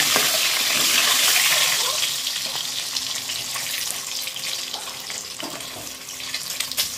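Boiled eggs frying in oil with turmeric in a kadai: a hissing, crackling sizzle that is loud at first and settles into a steadier spatter, with small pops throughout.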